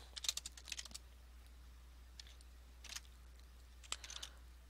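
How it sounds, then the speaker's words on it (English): Keys clatter on a computer keyboard in short, irregular bursts of quick clicks separated by pauses. The typing is soft and close against a low steady hum, with no speech. "I'm hitting all the wrong keys."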